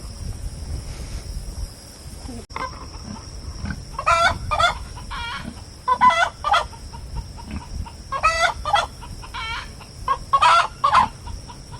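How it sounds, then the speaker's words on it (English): A broody hen sitting on eggs clucks in repeated short, close bursts of raspy, throaty notes, bunched in groups over a quiet farmyard background. "I think we got a broody hen."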